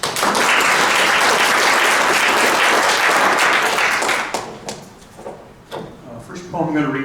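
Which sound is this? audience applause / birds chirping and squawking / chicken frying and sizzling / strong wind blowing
audience applause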